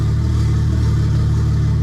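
BMW N54 engine with a DCT gearbox idling steadily and loud at close range, a constant low mechanical drone with no clear shift or rev change.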